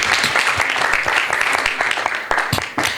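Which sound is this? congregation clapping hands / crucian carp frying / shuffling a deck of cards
congregation clapping hands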